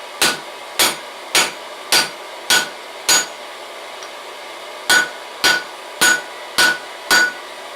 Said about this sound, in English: drive the center of that ball peen hammer on the ball down into the cupping form